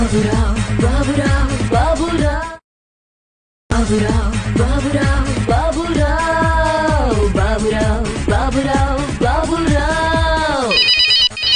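A telephone rings with a melodic electronic ringtone, repeating close and loud for several seconds, pausing briefly, then ringing again in steady cycles with no talk.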